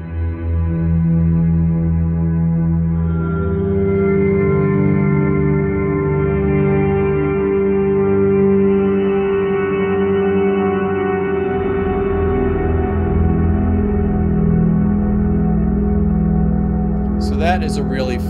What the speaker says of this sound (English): here's a fun one called the Dronely one. If I just click this, it automatically puts it into my Ventris Reverb and I can audition the preset.